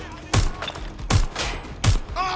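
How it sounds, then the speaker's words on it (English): Gunfire in the video game Watch Dogs: Legion: three loud, close bursts of shots spaced about three-quarters of a second apart, with faint effects between them. "Taking fire!"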